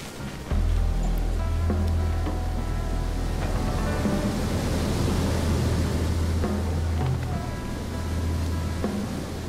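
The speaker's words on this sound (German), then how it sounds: "Aber am besten nicht, wenn die grosse Welle kommt" A big wave rushing in within the video game Shelter: a steady, broad roaring wash of water that holds at an even level throughout, with no talk.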